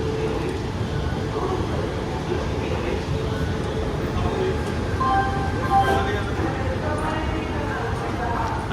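Nanded–Raichur Express, train 17664, rolls into platform 7 at Secunderabad Junction with a steady, close rumble and brief high squeals partway through, while indistinct voices murmur underneath.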